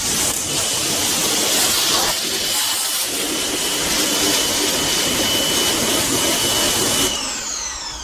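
An ACTIVE 2.0 pressure washer trigger gun sprays foam with a loud, steady, close hissing roar that runs unbroken for about seven seconds, then cuts off.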